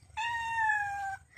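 A domestic cat gives a single drawn-out meow lasting about a second, clear and fairly close, with faint room noise beneath and no talking.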